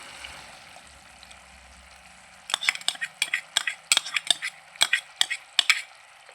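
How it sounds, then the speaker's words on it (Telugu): A spoon stirs briskly through gobi manchurian sauce in a frying pan as water is mixed in, with quick, uneven scraping clicks up close, starting after a quiet stretch with a faint sizzle in the background. "ఒక గిన్నెలో కొంచెం వాటర్ పోసి అలా తిప్పుకొని దీంట్లో కలుపుతున్నాను"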